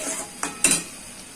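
Masala for pointed gourd korma is stirred in a pan, with two sharp spoon-on-pan scrapes over a faint background sizzle.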